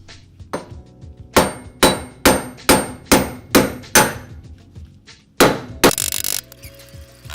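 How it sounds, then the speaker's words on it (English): A hammer knocks wheel studs out of a Mitsubishi Evo 8 rear hub with about eight sharp, evenly spaced metallic strikes. A short clattering rattle follows, close and loud, with no talking. "Next thing to do is to hammer these studs out"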